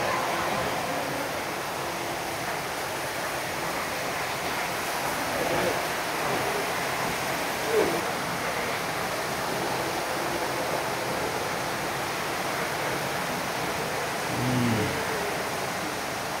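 Water runs in a steady, continuous hiss as sanitation workers clean the floor of the Kapileswara Swamy temple in Tirupati, with faint voices now and then.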